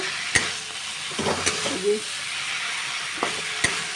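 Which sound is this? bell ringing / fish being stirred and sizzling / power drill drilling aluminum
fish being stirred and sizzling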